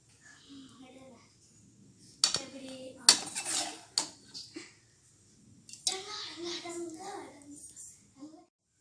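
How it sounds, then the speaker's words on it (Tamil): Metal spoon clinking and scraping against a pot while tamarind rice is mixed, in irregular bursts with quiet gaps, fairly close; soft voices murmur in the background. "இப்போ நல்லா கலருங்க."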